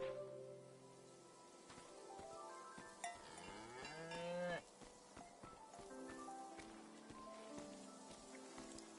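A cow lets out one drawn-out moo in the middle of a steady background patter, with people's voices nearby before and after.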